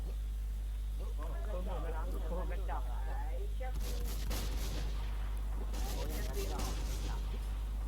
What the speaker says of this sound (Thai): เสียงปืนมันก็โคตรจะดัง